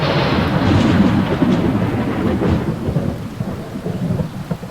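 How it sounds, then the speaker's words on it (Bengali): Loud rolling thunder rumbles through heavy rain, a deep sustained roar that swells early and slowly fades. "এমন সময় বাইরে সশব্দে বজ্রপাত হয়।"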